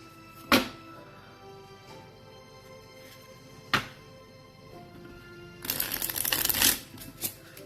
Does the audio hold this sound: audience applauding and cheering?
no